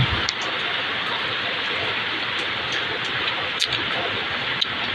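Steady rain falls on a wet morning, a continuous broadband hiss with a few faint drips and knocks, no voices.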